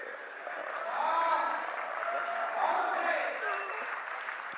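Audience at a Hindi comic poetry recital applauding, a soft, steady patter of clapping from a crowd that swells briefly and then holds before ending.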